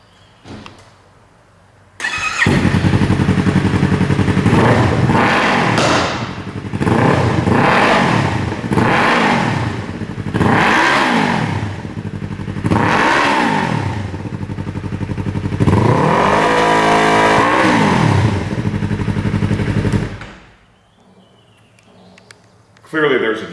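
After a quiet start, a Yamaha YZF-R3 sport bike fitted with a Yoshimura R-77 full exhaust fires up and is blipped through about half a dozen loud, sharp revs, close to the listener, before cutting off.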